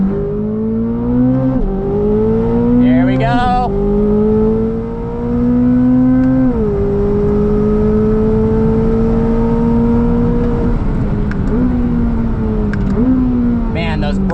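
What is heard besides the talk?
2025 Chevrolet Corvette ZR1 engine accelerating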